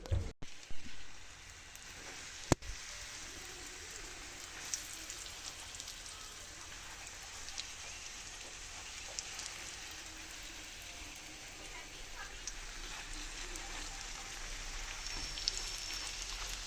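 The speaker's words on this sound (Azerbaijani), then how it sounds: "Çünki yağış başladı." Steady rain falls outdoors after a sudden downpour broke a hot, sunny 31-degree day, making an even, continuous patter and hiss that stays moderately loud throughout with no voices.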